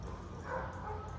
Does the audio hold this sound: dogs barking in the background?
yes